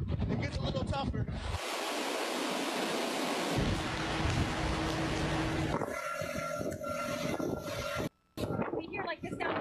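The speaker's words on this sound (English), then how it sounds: "you can hear just how powerful the wind gusts are" Roaring, rushing hurricane wind gusts during Hurricane Irma in Florida surge in broad waves of noise, with people talking and a few clanking, rattling sounds partway through.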